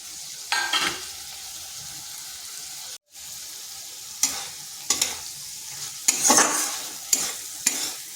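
Pointed gourd being stirred with spices in a pan: scraping, sizzling stir strokes come in uneven bursts over a steady frying hiss, with a brief silent gap near the start.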